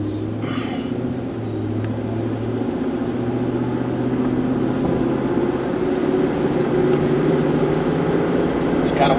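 A 2005 Chevrolet Suburban with a front left wheel speed sensor fault rolls along on a test drive, its engine giving a low, steady rumble heard from the cabin that grows slightly louder toward the end.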